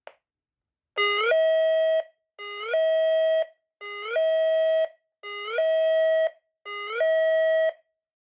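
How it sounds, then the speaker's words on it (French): A Neutronic PPMS TX5 intrusion alarm sounds five loud, identical tonal blasts of about one second each, separated by short silences, steady and electronic with no voices. "L'alarme va retentir."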